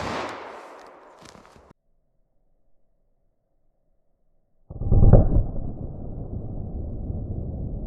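A .45 ACP Hornady Critical Defense round goes off in a ballistic test, one sharp loud report near the start that decays quickly. After a silent gap, a second burst of noise follows with a sharp onset and a long tail.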